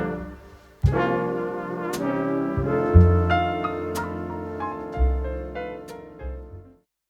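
Jazz recording, heard alone: a rich piano-led ensemble with bass and bright percussive accents, a loud opening hit after a faint lead-in, several strong chord stabs, then a quick fade.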